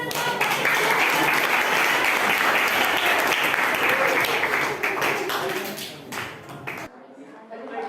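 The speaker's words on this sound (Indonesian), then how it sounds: "tepuk tangan kita semua" Applause in an Indonesian university teacher-training classroom: dense, lively clapping from a group that thins after about five seconds and stops abruptly near seven seconds.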